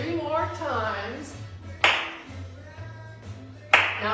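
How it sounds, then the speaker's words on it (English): Hands clap on the first beat of a four-count during a seated chair interval workout, two sharp claps spaced about two seconds apart under an instructor's steady counting voice. "We're clapping on 1."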